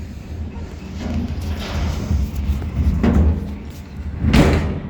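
A door creaks and thuds as it is pushed open during a violent storm in Delhi, with muffled knocks and a heavier bang near the end over steady wind-like rumble.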